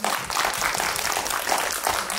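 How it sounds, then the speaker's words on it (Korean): Audience at a film screening talk session giving a round of applause for an actor, a steady wash of clapping from many hands at moderate distance. "박수 한번 주세요."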